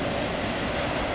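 Norfolk Southern 211, an intermodal freight train hauling containers behind AC44 Dash 9 locomotives, rolls by southbound on track 1 near Lowell as a steady, dense rumble and roar with no break.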